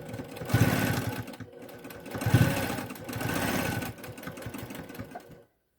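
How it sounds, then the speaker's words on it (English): A sewing machine runs in bursts of rapid mechanical stitching, speeding up and slowing in three runs before stopping abruptly near the end. "Over to my sewing machine."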